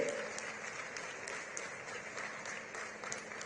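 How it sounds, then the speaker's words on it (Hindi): Steady applause from an audience at a political rally in Delhi, continuous and fairly faint with no single claps standing out. "एक बार जोरदार तालियों से"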